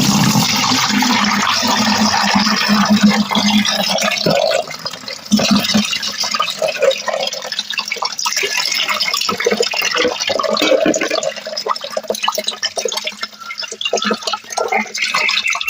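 Water poured steadily into homemade organic slurry in a container, a continuous close splashing, gurgling fill that runs throughout without pause.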